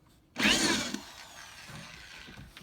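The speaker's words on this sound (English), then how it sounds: "he's drilling a hole" A DeWalt power drill bores a hole beside a house in a narrow gap by a neighbor's fence, a sudden loud whirring burst that settles into a quieter grinding hum with faint knocks.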